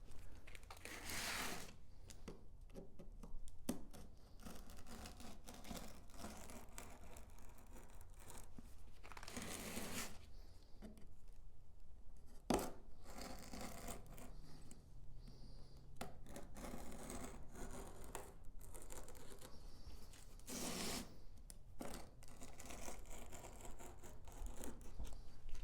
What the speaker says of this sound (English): I'm just going to take a razor blade. I'm just going to put it up against the disc. I'm just going to cut right around the disc.